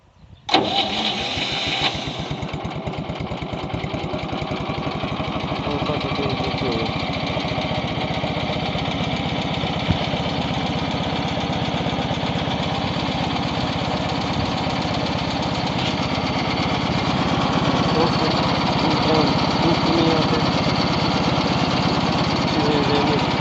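Homemade Prykarpatets TMK-02 mini tractor engine with a custom-made exhaust, starting up and then idling in neutral with a steady, loud, close chugging drone throughout and no talk.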